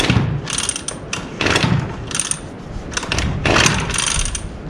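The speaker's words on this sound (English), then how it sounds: "We'll pull the starter cord 3 times." Starter cord on a Husqvarna 128LD trimmer pulled three times, each a quick ratcheting whir of the recoil mechanism, close and fairly loud with brief pauses between.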